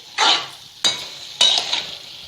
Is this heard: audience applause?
no